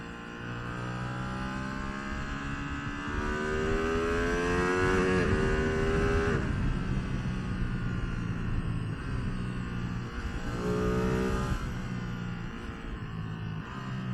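Ducati Streetfighter V2 twin-cylinder motorcycle climbing through the gears on a mountain road, engine note rising in repeated sweeps with a brief gear change between pulls, close and steady with wind rush underneath.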